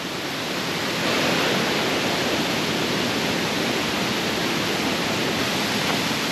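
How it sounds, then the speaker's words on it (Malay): Fast-flowing river water rushing near Sungai Chiling waterfall in Kuala Kubu Bharu, a steady, loud broadband roar that stays constant and close throughout with no voices. "Sungai deras."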